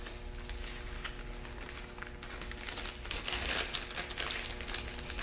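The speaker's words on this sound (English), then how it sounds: "I put it in the bag." A bar of soap slid into a clear plastic packaging bag, soft crinkling and rustling of thin plastic, faint and close, growing busier toward the end.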